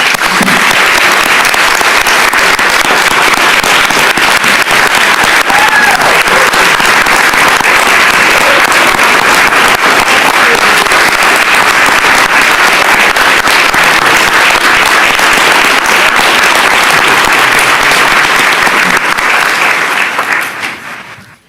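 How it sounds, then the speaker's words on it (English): Loud, sustained applause fills the room at a county commissioners meeting, a dense unbroken roar of clapping that stays even for about twenty seconds before cutting off abruptly. "Let's give them a warm round of applause."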